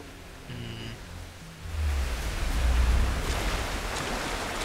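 A waterfall in the Tomb Raider video game roars as a broad, steady wash of rushing water that swells louder partway through and stays continuous, with faint game tones early on.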